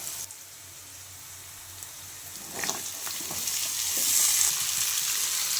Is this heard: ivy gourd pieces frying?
yes